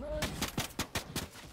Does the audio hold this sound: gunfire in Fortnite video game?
yes